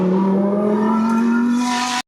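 An MT14 race car at the St Gouéno hill climb accelerates hard, its engine note climbing steadily in pitch, loud and close, before the sound cuts off abruptly.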